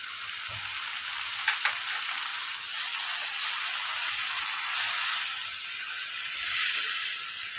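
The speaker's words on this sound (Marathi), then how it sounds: "आता आलं लसूण चांगलं परतलं गेलं आहे मी त्याच्यात टोमॅटो टाकून घेते" Ginger, garlic and tomato fry in a pan, giving a steady, fairly quiet sizzle with a few soft clicks near the start, continuous and without talk.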